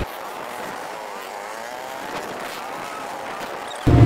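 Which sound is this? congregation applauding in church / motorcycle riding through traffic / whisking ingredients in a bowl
motorcycle riding through traffic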